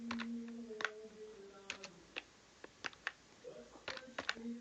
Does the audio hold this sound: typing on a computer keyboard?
yes